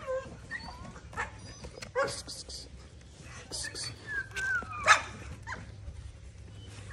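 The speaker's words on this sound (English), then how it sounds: "These three puppies are available." American Bully puppies, a brindle female and two blue males, give scattered yips, whimpers and small barks close by, while someone talks throughout.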